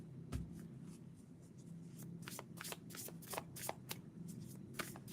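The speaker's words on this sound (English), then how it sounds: "I'm going to draw a few cards for you." Tarot cards are shuffled by hand in a quick run of soft, papery riffling bursts, close and fairly quiet, with no talking.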